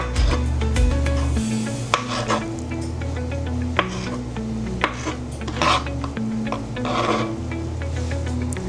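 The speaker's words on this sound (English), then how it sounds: "And then we have some tomatoes here in the cookout. Just gonna slice these." A knife slices and dices tomatoes in a kitchen, producing a few sharp taps and scraping strokes over a steady background hum and music.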